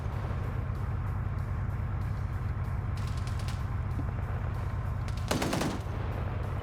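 An NSV heavy machine gun turret fires in Arma, a steady fast rhythmic stream of heavy rounds that runs through the whole stretch, with a few sharper cracks and a brief loud burst near the end.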